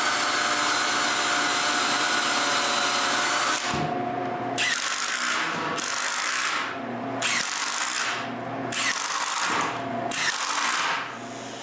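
A power driver sinks screws into a wooden bandsaw frame in a workshop, several bursts of whirring and grinding separated by short pauses, close and loud.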